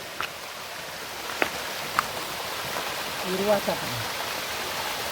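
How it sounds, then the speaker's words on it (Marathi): Water flowing at a brimming hilltop lake in a Konkan village during late-monsoon rains, a steady broadband rush filling the scene, with brief clicks and faint murmured voices in the background. "बघा गावाला आता आवाज येतो पाण्याचो"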